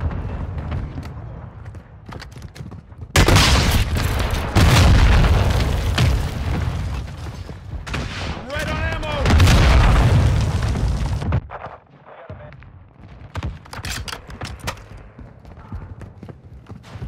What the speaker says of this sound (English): Mortar strike incoming.